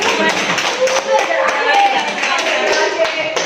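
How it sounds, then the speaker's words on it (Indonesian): A group of students claps together during a classroom group-guidance session, a dense, steady patter of hand claps close by with some voices mixed in. "Oke, tepuk tangan dulu deh."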